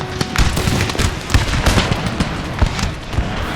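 Cannon fire from an artillery battle in Napoleon: Total War: a dense, rapid series of booming blasts and crackling reports overlapping one another, loud and continuous for a few seconds.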